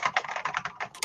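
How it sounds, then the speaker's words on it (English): Quick typing on a mechanical keyboard with old-fashioned Alps keys, a rapid run of about ten sharp, clicky keystrokes, close and clear with no talking. "Those sound like good old-fashioned Alps keys to me"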